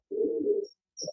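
Pigeons cooing in a stock loft: a single close, low, throaty coo followed by a brief second coo, with a faint high chirp in the background.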